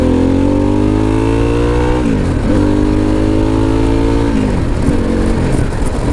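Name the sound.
Harley-Davidson Pan America motorcycle with homemade baffled exhaust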